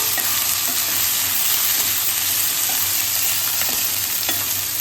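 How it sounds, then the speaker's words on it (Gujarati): Chopped vegetables with carrots and peas mixed into maize and millet flour, stirred in a hot pan for a traditional Gujarati breakfast, a loud continuous sizzle with scraping strokes throughout. "હવે બધી સામગ્રીને આપણે મિક્સ કરી લઈશું."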